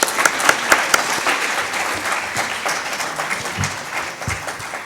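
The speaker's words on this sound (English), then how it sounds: "Can we have a huge round of applause for our speakers?" An audience at a hospitality HR summit claps for the speakers, a dense, steady burst of applause that fills the hall, close and loud, with a few sharper individual claps at the start.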